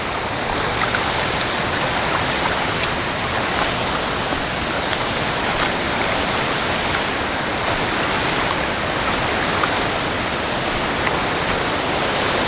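A river stream flows steadily, giving a continuous broad rushing wash of water that stays even and moderately loud for the whole stretch, with no voices over it.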